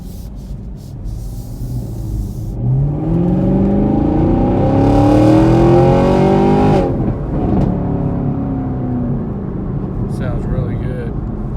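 A 2021 Chevy Camaro 1SS V8 with 455 horsepower accelerates hard on a test drive, its engine note climbing steadily through rising revs, shifting, then settling into a lower drone, heard loud from inside the cabin.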